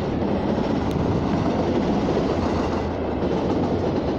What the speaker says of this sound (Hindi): तो दोस्तों ट्रैक साउंड आपको अच्छे सुनाई दे रहे होंगे